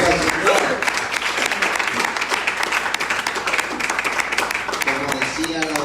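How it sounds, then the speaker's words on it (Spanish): A congregation applauds during a Sunday church service, steady dense clapping that fills the room, with voices and music running through it. "Un fuerte aplauso al Señor."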